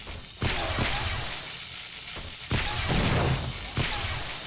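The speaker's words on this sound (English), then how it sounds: "Okay, I'll try a grenade." A grenade is thrown during a zombie horde night in 7 Days to Die, giving a series of sharp whooshes and heavy thumps, three or four loud impacts spread a second or so apart.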